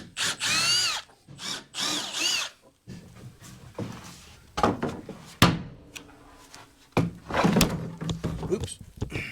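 A power drill whirs in short bursts, backing screws out of porch decking, with thunks of boards and tools between runs and someone talking intermittently.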